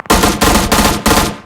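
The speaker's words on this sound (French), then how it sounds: "Ouais, il me tire dessus." Gunfire in the PUBG video game, four loud, close bursts of rapid automatic shots in quick succession, with no talk over them.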